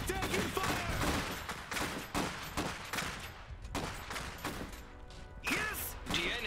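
Rapid bursts of gunfire and machine-gun fire from Iron Harvest battles rattle on without a break, with volleys and impacts stacked over each other and a few game voice lines underneath.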